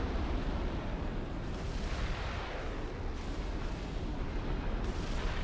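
Tech 2 mobile missile launchers fire in the Supreme Commander: Forged Alliance strategy game, a dense, continuous roar of launches and explosive booms, loud and rumbling throughout with no speech.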